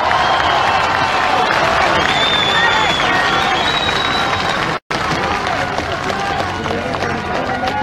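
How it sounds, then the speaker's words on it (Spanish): A large crowd at a political rally in León, Guanajuato breaks into loud, sustained applause and cheering, dense clapping with scattered shouts, continuing after a brief cut. "Fuerte nuestro aplauso para recibir a la doctora Antares Vázquez Alatorre."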